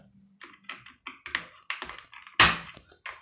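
A series of light plastic taps and clicks on a Defender Assault GK-350L metal gaming keyboard, ending in one sharper, louder snap as a keycap seats, close up with no talking.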